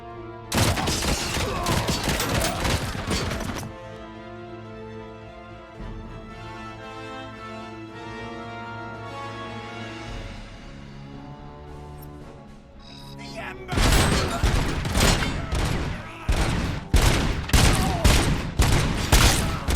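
Turret gun in RoboCop: Rogue City blasting rapid, loud bursts of gunfire, a dense barrage at the start, a lull with a lower rumbling sustained tone, then another heavy volley toward the end.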